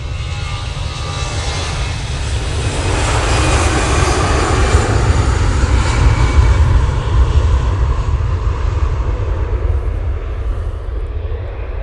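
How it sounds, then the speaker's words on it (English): An EasyJet Airbus A320-200 takes off bound for Paris Charles de Gaulle, its jet engines sending a loud, steady roar that swells midway and holds, broad and continuous, with no voices over it. "Next out will be the EasyJet off to Paris Charles de Gaulle Airport using their A320-200."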